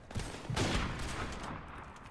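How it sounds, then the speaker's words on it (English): A stun grenade goes off in a shooter video game amid sniper and G36C gunfire, dense bursts and crackling blasts layered over a continuous roar of battle noise. "Using stun grenade!"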